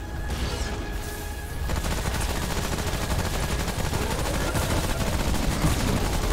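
Rapid gunfire from the video game Remnant: From the Ashes: dense, continuous bursts of shots with a rumbling, loud bed of game noise filling the whole span.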